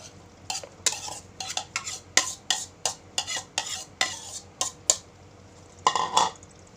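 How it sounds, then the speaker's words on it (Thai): Stirring a ground-mushroom soup mixture in a pot, heard as a steady run of close, rhythmic scraping and clinking strokes of a utensil against the pot, with no talking. "คนคนให้มันเข้ากันก่อนค่อยปรุงเครื่อง"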